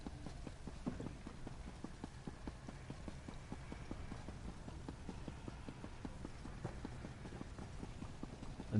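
Horse hooves clip-clopping in the video game Elder Scrolls Online: Necrom, a steady rapid trotting rhythm of many hoof strikes, even and continuous, fairly quiet throughout.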